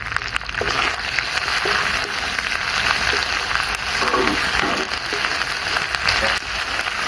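Chopped tomatoes hit a hot frying pan already holding browned onions and ginger-garlic paste for a fish roe curry, raising a loud, steady sizzle that hisses continuously throughout.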